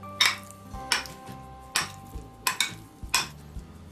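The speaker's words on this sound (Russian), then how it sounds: "грамм печени трески измельчаю ложкой" A spoon mashes canned cod liver in a kitchen, giving a series of sharp metallic clinks and taps at an uneven rhythm, fairly quiet and close with no talk.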